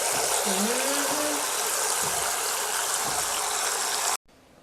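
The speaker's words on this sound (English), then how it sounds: "Take some more water in our different pot" Water pouring steadily into a cooking pot, a loud, close, continuous gushing stream that stops abruptly near the end, with a brief voice over the flow.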